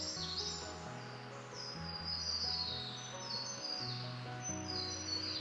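Birds chirping and tweeting high in a forest in Yarriabini National Park, with steady overlapping calls carrying on under a sustained, chord-like tonal background.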